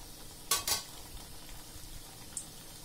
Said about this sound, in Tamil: எடுத்து சூடான எண்ணெய் தப்பி விட்டுன்னா போதும்